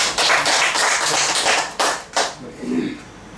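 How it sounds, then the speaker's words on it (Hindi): A classroom audience claps in short bursts of applause during a memory and Rubik's Cube talk, loud at first and then fading into a few scattered claps. "आप 2 पे उनके लिए जोरदार ताली बजाइए।"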